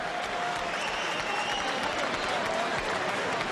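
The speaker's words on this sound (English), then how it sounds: "we'll get quite a nice round of applause here" Crowd at a boxing match applauding as a fighter gets back up, a dense, loud wash of clapping and cheering that holds steady throughout.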